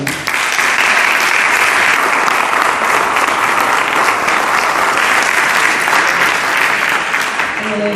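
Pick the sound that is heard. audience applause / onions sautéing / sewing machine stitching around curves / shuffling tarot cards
audience applause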